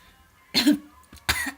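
Two sharp, close coughs separated by a short pause, with a faint throat sound between them.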